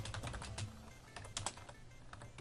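Rapid clicking keystrokes on a computer keyboard come in quick irregular bursts with short pauses, close and fairly quiet over a low background hum.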